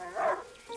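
A dog in the video game A Plague Tale: Innocence gives a short bark or yip, a brief close burst followed by a fainter second note, with no talking over it.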